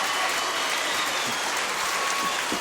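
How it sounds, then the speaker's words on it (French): Studio audience applauding on a French television show, a steady dense wash of clapping that holds at an even level throughout with no voices on top. "Applaudissements, mesdames, messieurs."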